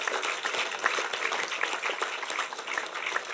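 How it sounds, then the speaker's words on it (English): Applause from residents at a housing scheme gathering addressed by the President, a moderate spread of clapping with sharp individual claps, somewhat distant and continuous. "I think you need a round of applause."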